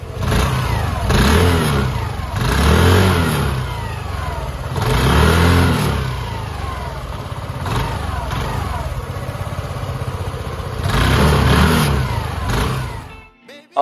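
A Hero Xoom 110 scooter with a 110.9cc air-cooled four-stroke engine accelerates repeatedly, its engine revving up in several surging waves and easing off between them, loud and close, before cutting to silence at the end.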